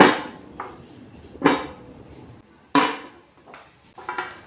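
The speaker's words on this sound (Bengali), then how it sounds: "ছুরি দিয়ে কাজু বাদাম ছোটো ছোটো পিস করছে" A knife chops cashew nuts into small pieces for carrot halwa. About six sharp, irregular knocks land with pauses between them, close and fairly loud, with no talking.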